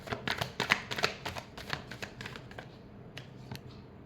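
Tarot cards are shuffled by hand in quick bursts of crisp riffling and tapping clicks, close and fairly loud at first, thinning into sparser taps toward the end.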